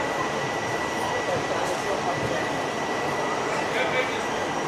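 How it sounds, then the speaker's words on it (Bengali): The Asansol Gonda Express rolls onward after pulling out of Barauni Junction, heard as a steady, continuous rumble of train wheels and carriage noise with a constant hum and no distinct events. "ট্রেনটা ছেড়ে দিল বারৌনি জংশন"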